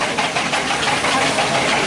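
Steam traction engine working in the heavy haulage arena at the Great Dorset Steam Fair, a loud, steady, dense roar with no gaps.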